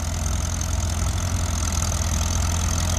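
A tractor engine pulls a fast-hitch two-bottom plow at a plow day, worked near its limit, giving a steady loud low rumble with a throbbing beat that holds for the whole stretch, with no talk.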